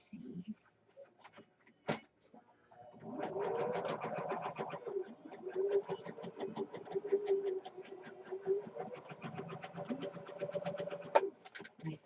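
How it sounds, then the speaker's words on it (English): A sewing machine stitches patchwork junk journal pages with a rapid, even mechanical whirr and clatter running several seconds, preceded by a few isolated clicks and knocks, no talking. "You hear that sewing machine? Just the stitching. I love the sound of the sewing machine."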